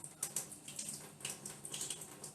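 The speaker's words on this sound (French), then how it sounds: "Je fais couler un peu d'eau tiède," Lukewarm tap water runs into a sink for a few seconds, splashing and trickling in an uneven, close stream with no talking.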